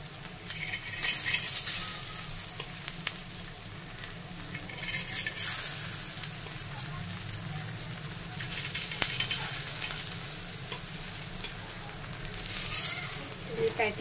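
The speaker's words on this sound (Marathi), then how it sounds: "पॅटीस तव्यावर घालून घेतलेले आहेत" Fresh baby shrimp patties fry in hot oil on a tava griddle, giving a steady close-up sizzle with scattered crackles and small pops that swell and ease throughout.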